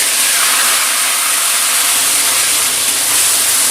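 Onion paste hits hot oil in which whole spices have already been tempered, giving a loud, close, unbroken hiss of frying that stays even throughout, with no speech.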